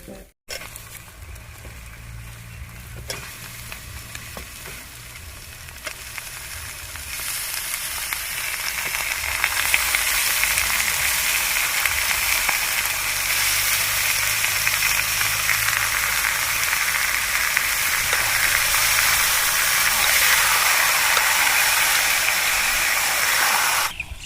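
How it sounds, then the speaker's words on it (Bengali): Chicken pieces hit hot oil already frying with ginger, garlic and green chilli, giving a steady close sizzle that swells louder partway through and then holds as a bright, continuous hiss, with no talking. "আদা রসুন কাঁচা লঙ্কা দিয়ে আমি আবার এক মিনিট ভালো করে ভেজে নিয়েছি এবার আমি মাংসটা দিয়ে দেবো"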